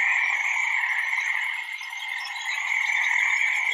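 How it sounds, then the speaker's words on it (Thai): Frogs calling at night, the red narrow-mouthed frog kind: a dense, continuous high-pitched trilling chorus that holds steady throughout with no breaks and no talk. "นี่เสียงกบคำครับผม"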